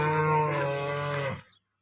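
A cow at a cattle shelter in Rah village, Tharad taluka, Banaskantha, gives a single long, close moo lasting about a second and a half, which stops abruptly and leaves silence.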